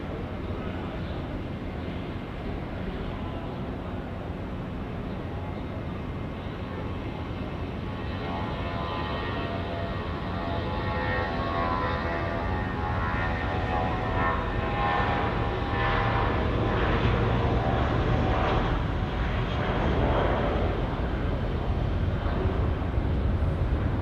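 A Jetstar airliner rumbles steadily on its take-off roll at Auckland Airport, a broad continuous engine roar that swells slightly as it goes, heard from a distance, with chatter and voices underneath.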